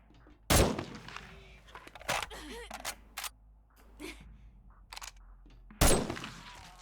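Gunshots in the game 7 Days to Die land as a few sharp, loud cracks spaced across the moment, one scoring a headshot, with a voice speaking between them over quieter game sounds.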